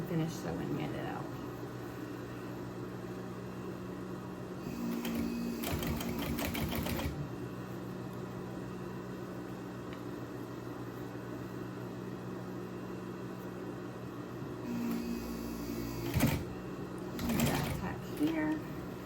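A sewing machine stitches a Christmas stocking in steady whirring runs, pausing briefly mid-seam and again near the end, while a person talks over it.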